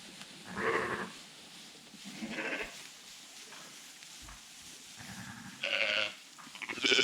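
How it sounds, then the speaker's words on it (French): Ewes that have already lambed bleat on a farm in January, several separate calls of moderate loudness spaced a second or two apart over quiet barn ambience. "ici, devant, on a les brebis simples qui ont déjà agnelé"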